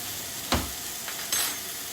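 Steak and sea scallops sear in a Pampered Chef cast iron skillet, giving a low steady sizzle with a couple of brief louder pops and hisses as the food cooks.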